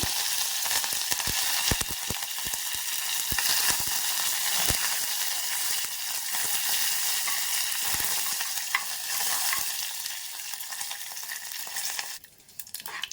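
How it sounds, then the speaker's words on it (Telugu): Mustard seeds and curry leaves sizzle in hot oil with a dense, loud, continuous hiss and scattered popping crackles, easing off and falling quiet near the end. "ఆవాలు చిటిపట్టలు ఆడితేనే బాగుంటుందండి. ఇప్పుడు మనం కరివేపాకు వేస్తాము."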